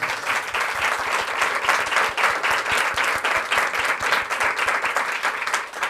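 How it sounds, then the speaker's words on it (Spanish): An audience at a Creative Mornings talk in Madrid applauds steadily, a dense, loud wash of many hands clapping that holds for several seconds and tapers off slightly at the end. "otro aplauso, ¿no?"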